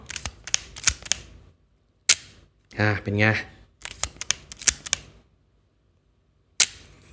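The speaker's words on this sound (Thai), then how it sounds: "เดี๋ยวผมลองกดชัตเตอร์ให้ฟังดีกว่าเนาะ" Sharp mechanical shutter clicks from a Leica M3 film camera, several close and crisp in clusters with pauses between them, and someone briefly speaks in the middle.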